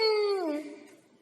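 A single voice imitates an aeroplane with a drawn-out humming N sound that glides downward in pitch and fades away, close and fairly soft.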